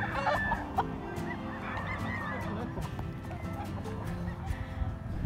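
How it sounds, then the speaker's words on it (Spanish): Chickens sorted by size on a ranch fill the air with a dense, continuous mix of clucking and squawking birds, with scattered louder calls and thumps of movement, close by and busy throughout. "Seleccionando los pollos que van a salir al tipi"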